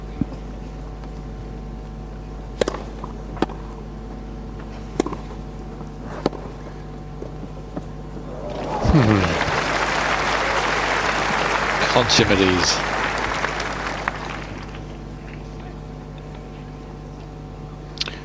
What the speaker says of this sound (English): some of the loudest applause, and certainly well deserved